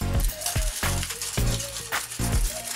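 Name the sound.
tin foil scrubbing rust off a chrome BMX rim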